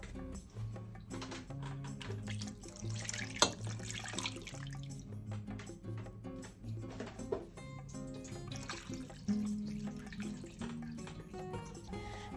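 Tap water running into a cooking pot holding cleaned chicken bones and pork, a steady close splashing stream that continues throughout without any talking.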